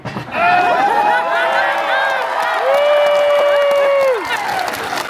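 An audience at a Colorado Renaissance Festival whip show in Larkspur erupts in loud, sustained cheering, with whoops and clapping that hold steady for several seconds before easing slightly.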